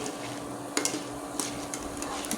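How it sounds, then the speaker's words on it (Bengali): Gram flour drops for bundia fry in oil with a soft, steady sizzle, broken by a few light clinks of a utensil against the pan. "এক এক করে ভেজে তুলে নিচ্ছি"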